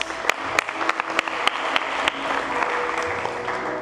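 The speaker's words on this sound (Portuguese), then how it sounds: "Dê um aplauso a Jesus." Church congregation applauding during a sermon, a steady crowd clap with several sharp, close individual claps punctuating the first half before it settles into an even wash.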